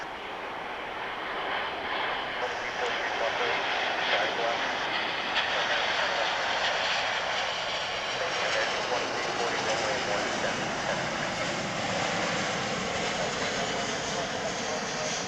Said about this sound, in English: here comes Flight 102 from Honolulu on the second try of Runway DFW